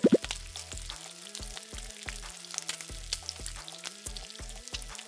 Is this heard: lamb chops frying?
yes